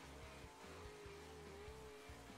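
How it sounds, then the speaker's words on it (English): A car engine hums at a steady pitch in a farming video game, a continuous low drone with faint texture, fairly quiet and with no talk over it. "Oh, I hear a car."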